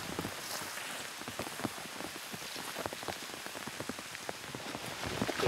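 Steady rain falls outdoors, a dense, even patter of drops on surfaces continuing throughout with no voices.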